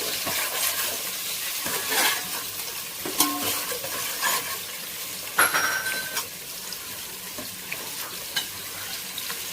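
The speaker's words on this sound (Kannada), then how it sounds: "ಇದು ಬ್ರೌನ್ ಕಲರ್ ಆಗೋವರೆಗೂ ಫ್ರೈ ಮಾಡ್ಕೊಳ್ಳಿ." Onions frying in a pan for radish sambar, a steady close sizzle with scattered clinks and stirring scrapes of a utensil against the pan, no voices.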